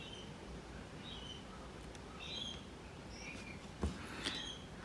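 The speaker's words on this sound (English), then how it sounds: "That's a lorikeets waiting for food, but they're not having any yet." Lorikeets waiting for food chirp and tweet faintly in the background with short, scattered high calls over a steady low hum, plus a couple of soft knocks nearby.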